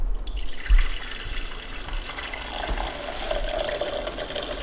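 Hickory bark tea pours steadily into a container nearby, a continuous watery trickle with no talking.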